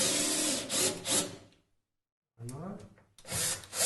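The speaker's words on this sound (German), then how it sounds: "Halten das Ganze fest und schrauben das mit dem Akkuschrauber an." A cordless screwdriver drives screws into a wooden cajon body, whirring in short bursts separated by a moment of silence, close and fairly loud, with a brief spoken word.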